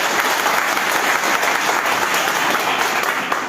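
Dense, steady clapping from a large crowd at a rally of government employees over old pension demands, a continuous loud wash of applause with no break and no clear voices.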